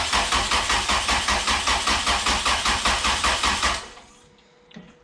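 A rebuilt Honda H22A engine with a KS-Tuned balance shaft delete and new pistons cranks on the starter in a steady, loud, rhythmic chug for nearly four seconds, then cuts off into near silence.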